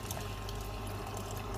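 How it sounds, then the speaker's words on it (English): Water pours steadily into a teapot in a soft, continuous trickling stream, quiet and close, with no break. "I'm going to add more water."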